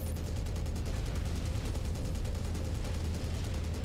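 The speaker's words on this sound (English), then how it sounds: "Machine guns." Rapid machine gun fire in the MechWarrior 5 video game, a dense stream of quick rhythmic bursts that continues steadily without pause, mid-level in the mix, with no voices.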